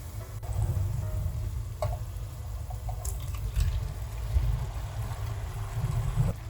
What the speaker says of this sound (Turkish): Salçayı da 1-2 dakika kavurduktan sonra karnabaharları ekliyoruz.